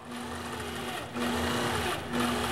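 A sewing machine stitches a quilt with a steady, close motor whir and needle hum. Running is continuous, with a brief dip near the middle and another toward the end.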